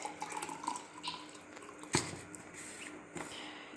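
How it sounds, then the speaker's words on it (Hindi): Steeped drink being poured through a strainer in a kitchen, a soft trickle of liquid with faint drips and one sharp clink partway through, low and close. "अब हम इसे छान लेंगे।"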